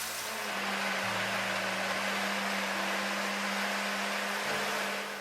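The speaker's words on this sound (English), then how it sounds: "run it through a blender now" Kitchen blender puréeing cooked tomatoes into a smooth paste for butter chicken, a steady loud motor whir with a low hum running throughout, close and unbroken, with no voices.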